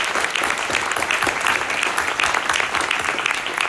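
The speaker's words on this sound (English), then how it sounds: "My notes say I'm supposed to ask you to applaud the county commissioners. I think you just did." Audience applauding county commissioners at a housing announcement, loud, dense clapping from a large crowd that stays sustained and even from start to finish.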